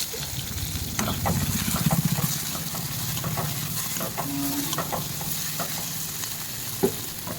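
Hot oil sizzles steadily in a pan, with scattered crackles and pops and a few light clanks of utensils throughout.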